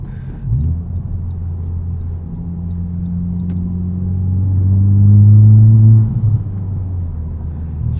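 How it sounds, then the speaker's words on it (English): Modified 2021 Honda Civic Type R four-cylinder tuner engine droning steadily from inside the car, its tone rising in a revving swell toward the middle before easing off, with no talk over it. "It's tame, yeah. You know, it's just a tuner car four-cylinder sound."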